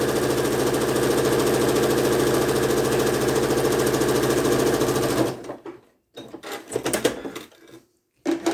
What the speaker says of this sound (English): And just run a stitch, line of stitching down through there.